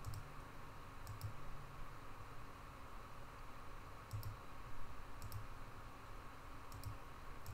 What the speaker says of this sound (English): I'm gonna have to click around here a little bit to get it back.